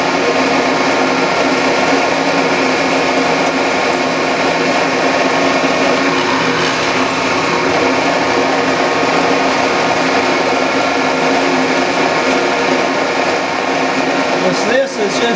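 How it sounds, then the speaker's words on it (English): Steady, loud drilling whine runs continuously without a break while drilling holes in indexing plates, a motor droning at constant pitch close up, with no voices over it. "This is just line up and drill."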